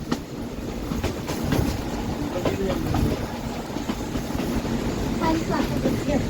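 The Bilimora–Waghai train rolls slowly through forest, producing a continuous rumble with repeated wheel clatter and the creak of the carriages; faint voices are present in the background.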